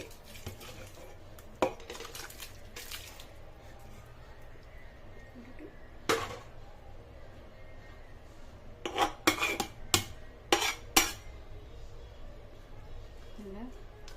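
Rice is stirred in a biryani pot with a metal spoon, producing several scattered scraping and clinking hits against the pot, loudest in a quick cluster near the end, while a person talks.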